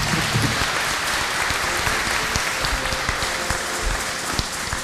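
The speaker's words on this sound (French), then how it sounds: "on peut l'applaudir aussi" A gathering claps for a priest, Father Martiaux, recently named parish priest; steady, full applause continues throughout, moderately close, without speech.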